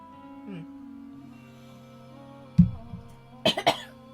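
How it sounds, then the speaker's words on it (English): A heavy cough followed shortly by a quick pair of harsh coughs, close up, over a low background hum. "Coughing myself to death."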